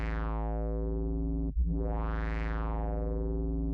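Sustained synth note for a speed garage track, rich in harmonics, with a wide pitch wobble: a sudden dip, then a rising sweep of brightness, washed in hall reverb and heard alone.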